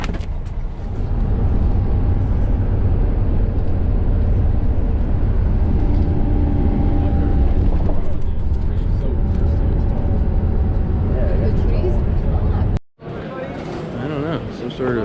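Bus engine droning steadily on the road from Tel Aviv to Jerusalem, a loud continuous low rumble with road noise, broken by a brief cut near the end, with people talking inside the cabin.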